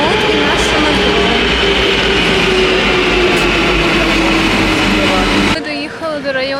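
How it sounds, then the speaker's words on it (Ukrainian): A metro train in Istanbul runs at speed, a loud steady rumbling roar with whining tones from inside the car, and the noise drops abruptly near the end as it slows or changes. "А от і наше метро."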